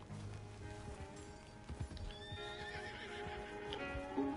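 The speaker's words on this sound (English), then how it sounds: "Can you help me get my horse back? She bolted on me." A horse in Red Dead Redemption 2 whinnies and bolts, its neigh rising over a quick clatter of hooves, with game ambience and music underneath at a fairly quiet level.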